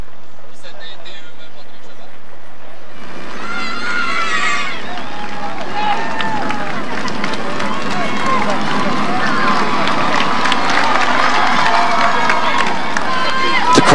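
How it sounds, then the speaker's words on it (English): Roadside crowd at a Tour de France stage in 2016, a dense babble of voices and cheering that swells into a loud, continuous roar, with vehicles rushing past nearby. "Crowds never cease to amaze at the Tour de France."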